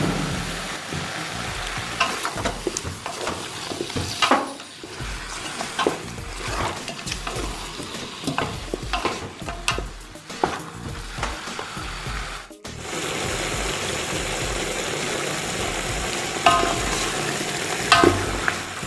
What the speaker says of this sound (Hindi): देखिए अब हमारा चिकन फ्राई हो चुका है।